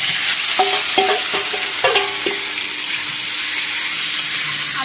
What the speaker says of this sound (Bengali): কড়াইতে সর্ষের তেল দিয়ে দিয়েছি দিয়ে দিলাম গোটা জিরে আর তেজপাতা ফোড়ন